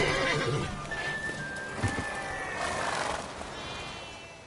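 In Witcher 3, a horse whinnies loudly and close by during a race, with galloping hooves clip-clopping underneath and a rough, breathy texture throughout.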